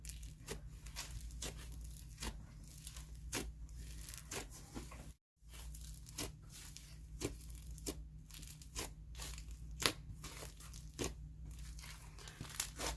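Inflated, sizzly slime being pressed and handled, giving a steady stream of fine crackling and crinkling pops with sharper snaps throughout, close and fairly quiet, broken by a brief pause midway.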